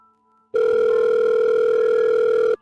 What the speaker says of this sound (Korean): 연이어 울리는 전화벨에 마음이 요동쳤지만 응답이 없었다.